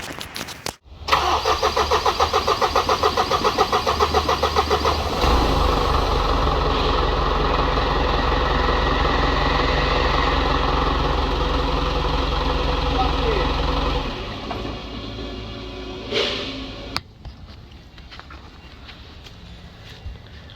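An Isuzu NPS truck's engine, newly transplanted and running without radiator or intercooler, starts abruptly and idles loudly with a steady, throbbing rumble close by, then drops lower before briefly revving and cutting off near the end.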